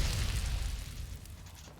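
A large explosion from a gas leak in the game Fallout 3, a loud deep rumbling boom that starts at full strength and slowly fades over about two seconds, with no talk over it.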